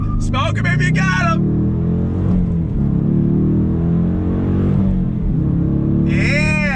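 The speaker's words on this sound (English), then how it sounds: "have it in first gear, give it a little throttle, here we go" Dodge Challenger R/T with a 375-horsepower engine and six-speed manual revving as it pulls away in first gear, a steady low rumble building under someone talking close by throughout.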